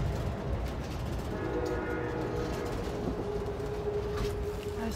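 Steady rumble and rattle inside the business class car of a moving passenger train on a day trip to Santa Barbara, with faint squealing tones from the wheels or rails running continuously and no talk.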